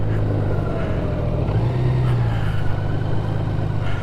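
A Honda Goldwing motorcycle engine idling and gently revving, a steady low droning hum with a slight rise in pitch midway, close and continuous.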